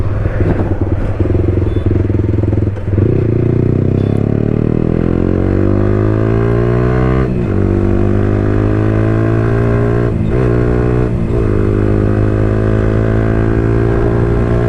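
Yamaha R15 V4 motorcycle fitted with an Akrapovic exhaust with the dB killer removed, riding with a loud, steady engine drone and rising and falling revs through gear changes, close and continuous throughout.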